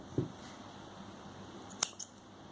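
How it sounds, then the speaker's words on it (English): Scissors snip off yarn during crochet work on a coffee cup holder: a quiet room, one soft cut early on, then a sharper double snip near the end. "Do chain 1 and snip off this yarn."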